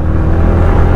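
A motorcycle with an aftermarket exhaust pipe is revved hard, a loud, steady, rough roar filling the whole moment up close, with no talking.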